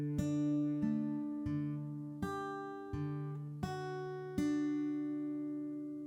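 Acoustic guitar picking a short run of a riff, the ring finger note among them: about eight clean plucked notes in an even rhythm, close, quiet and sustained, no voices.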